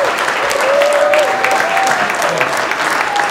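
An audience claps loudly in a sustained burst of applause throughout, close and dense, with a voice faintly audible over it.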